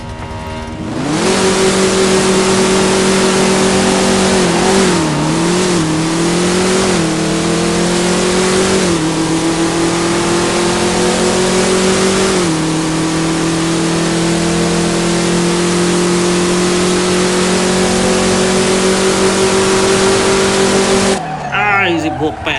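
A pickup truck with a manual gearbox accelerates hard on a drag run. The engine roars loudly and steadily, with brief dips at each gear change before it climbs again.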